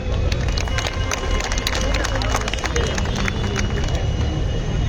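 Crowd at a political rally clapping in a dense, continuous burst of applause that stays loud and steady throughout.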